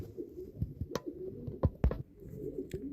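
Several pigeons coo softly at a home loft, low murmuring calls broken up by sharp knocks and thumps from the surroundings.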